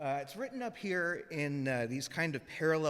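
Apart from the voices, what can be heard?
None of the usual background noises is heard.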